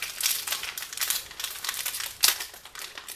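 Panini trading card rack pack wrappers being torn open by hand, close-up crinkling and ripping plastic in irregular bursts with one sharper tear near the end, no talking.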